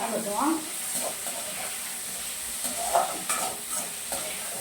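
Ingredients stirred and sautéed in a pan, with continuous sizzling and scraping stirs, close and moderately loud, with a voice faintly present at times.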